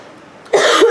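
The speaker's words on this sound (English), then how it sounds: "I hear my wife coughing." A woman coughs from somewhere in the house, a short burst of harsh coughs in the second half after a quiet, roomy stretch, with the fumes of an extremely hot Butch T Reaper pepper omelette still in the air.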